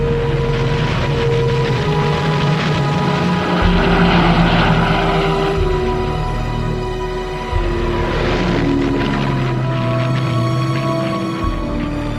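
Propeller-driven aircraft of new Luftwaffe models droning loudly at an air display, a steady engine roar with swelling and fading passes, alone with no talk.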